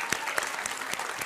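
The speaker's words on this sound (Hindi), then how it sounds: "आज की ऑडियंस के लिए एक बार ताली बज जाए भाई।" Dense audience applause fills a live debate studio, a steady crackle of many hands clapping at once, loud and close with no voices on top.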